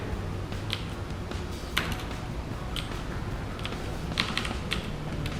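Someone types on a mechanical keyboard, producing rapid, irregular clacking keystrokes up close over a faint background hum, with no voices.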